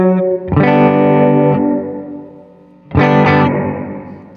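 Electric guitar through a Walrus Audio Mako Series R1 reverb pedal with vibrato engaged, two loud sustained chords about two seconds apart, each wavering in pitch and ringing out with a reverb tail.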